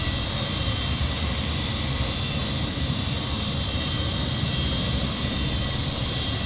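MD-80 jet engines in a flight simulator game, a steady broad whine and roar heard from outside the airliner, constant and unbroken.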